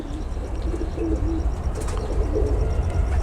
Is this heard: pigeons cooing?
yes